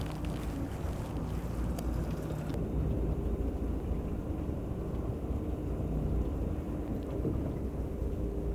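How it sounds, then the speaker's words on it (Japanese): Heavy rain pours steadily onto a small fishing boat out at sea, a dense continuous hiss and patter with low rumbling underneath, with no voices. "ちょっと雨強くなってきたよ。"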